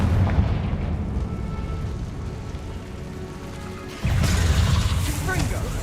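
A Confringo fire-blast spell explodes in Hogwarts Legacy, a sudden loud broadband burst partway through that follows a stretch of steady rumbling game ambience, with rushing and crackling noise lingering afterward.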